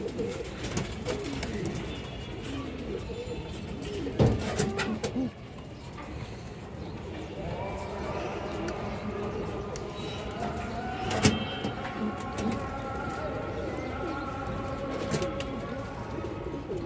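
Pigeons coo in a loft where a Brazilian female pigeon is shown, low rumbling calls steady through a busy background with a couple of sharp knocks, and a person talks over part of it.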